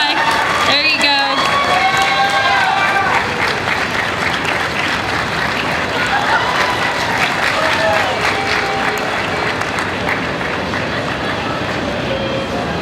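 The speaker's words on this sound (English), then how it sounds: "Big round of applause, guys." Crowd applauding and cheering throughout at a Replay FX 2015 costume contest, dense and continuous with whoops rising over it, and a brief voice near the start.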